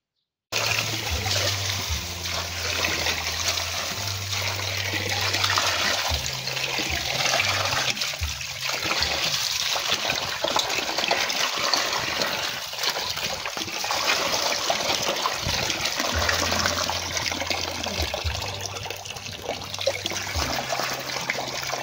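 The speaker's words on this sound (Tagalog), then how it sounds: "Hinugasan ko nga maigi yung alimango diyan" Steady running water splashing over crabs being washed, a continuous loud gush and trickle lasting throughout with small shifts in splatter, no voices.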